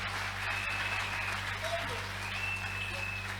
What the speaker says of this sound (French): Applaudissons notre Seigneur.